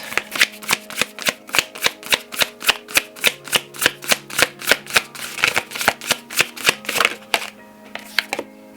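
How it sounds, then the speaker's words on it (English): Oracle cards being shuffled in a rapid, steady run of crisp riffling snaps, about thirty in a row, close and loud, with no talking, slowing and fading near the end. "Let's get a few other oracle cards."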